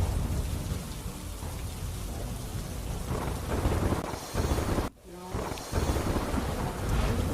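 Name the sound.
heavy rain with thunder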